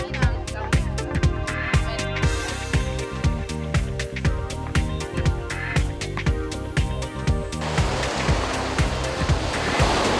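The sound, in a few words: sea waves on a beach in Sardinia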